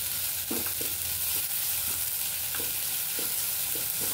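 Onion with ginger, garlic and coconut paste sautés in a pan, a soft steady sizzle broken by intermittent scraping stirs of a spoon, fairly quiet and with no voices.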